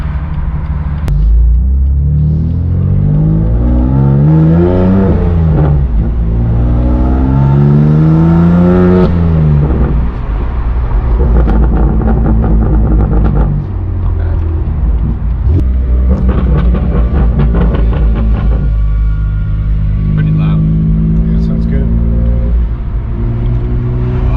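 A BMW M2 Competition with an Active Autowerke Signature exhaust and VRSF catless downpipes revs hard in several rising and falling sweeps, loud and close, with a deep rumble between pulls and no talk.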